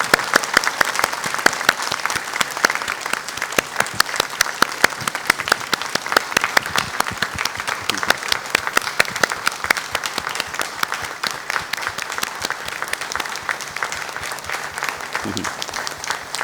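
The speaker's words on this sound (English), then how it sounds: "I would like you to have a big applause for Father Peter" A university audience applauds Father Peter at the installation of a rector, sustained dense clapping lasting over fifteen seconds with individual sharp claps, easing slightly toward the end.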